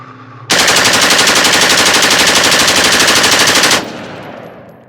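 Rifle with an Atrius forced reset selector fires a long, unbroken burst of very rapid, loud shots for about three seconds, then abruptly cuts off and leaves a fading ring.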